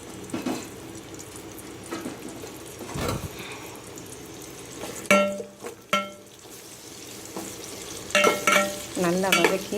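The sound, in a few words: onions frying in oil for mutton biryani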